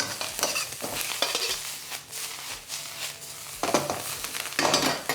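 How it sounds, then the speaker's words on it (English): Leftover ingredients stir-fried in a wok give a steady, close hiss of sizzling oil with scraping, tossing stirs that swell in waves and grow louder near the end. "Now I'm actually stir frying these ingredients for a good sort of 2 to 3 minutes before I add in the rest"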